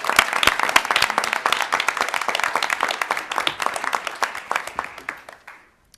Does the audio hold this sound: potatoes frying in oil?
no